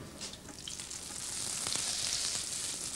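Butter melting in a large pan gives a steady, close hiss and crackle, a continuous sizzle that holds through the whole stretch with no voices, set in a 1966 Austrian television kitchen.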